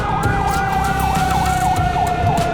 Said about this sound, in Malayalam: തുരുതുരെ ആംബുലൻസ് തെക്ക് വടക്ക് പായുകയാണ്.